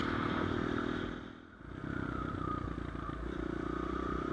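A 250cc Hurricane V2 Nitro Motors dirt bike engine roars loudly and continuously nearby, dipping briefly before surging again with a harsh, rattling drone.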